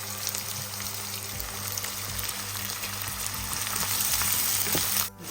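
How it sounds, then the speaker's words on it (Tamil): Chopped carrots and beans with onion, ginger and garlic sizzle steadily in a hot pan for restaurant-style vegetable fried rice, a continuous crackling fry with occasional stirring scrapes, close and fairly loud, no voices. "அதை அப்படியே நம்ம நல்லா வறுக்கிறோம்."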